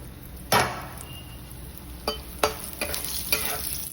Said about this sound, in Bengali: এবার এই তেলে আলু ভেজে নেব